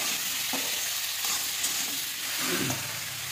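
Turmeric, green chilli and salt sizzling and frying in a pan while being stirred, a steady close hiss with faint scraping stirs, no talking.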